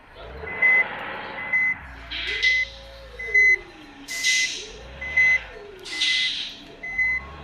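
A KSRTC bus sounds its reversing alarm, a steady series of evenly spaced beeps repeating about every second, joined by a looping rising-and-falling electronic tone and a low rumbling engine underneath.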